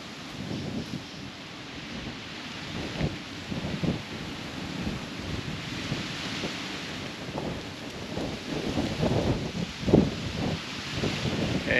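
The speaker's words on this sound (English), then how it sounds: "rain and wind really starting to pick up now" Steady rushing wind and rain from Cyclone Kirrily fill the space continuously, with gusty swells and occasional thumps buffeting the microphone.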